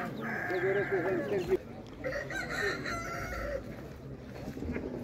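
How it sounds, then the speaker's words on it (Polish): Sumatra hens and a rooster at a poultry market, the rooster crowing in long drawn calls over a murmur of market noise and chatter, fairly near. "To są Sumatry, dwie kurki i obok nich kogut."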